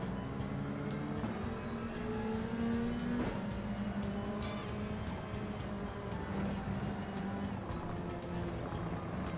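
Race car lapping in Gran Turismo, engine note steadily rising and falling through gear changes and corners, continuous and prominent with other cars' engines faintly mixed in.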